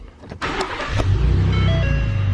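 A 2019 Ford Raptor pickup truck starts up close by, with a quick crank that catches into a deep, steady idle rumble.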